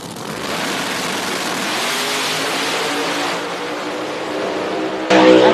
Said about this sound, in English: That's a drag race